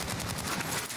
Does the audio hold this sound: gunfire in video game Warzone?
yes